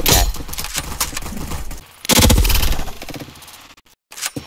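Shotgun firing in the video game Caliber, loud close blasts and bursts of gunfire with sharp attacks, a heavy burst around the middle and brief gaps of near silence between shots.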